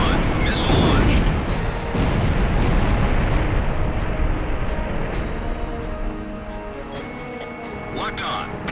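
Missile launch in the flight game Ace Combat Zero, a loud roaring blast and sustained rumbling whoosh that fills the clip. A radio voice speaks over it.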